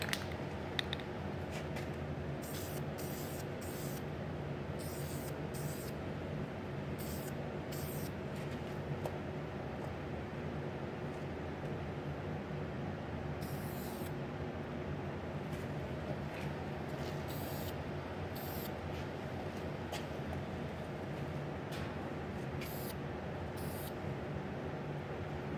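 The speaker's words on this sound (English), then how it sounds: "I'm going to try and spray this while the camera's sitting here" Primer sprays from a can onto a hard body in a long, steady hiss that runs almost unbroken, with a few brief higher bursts as the nozzle is pressed and released.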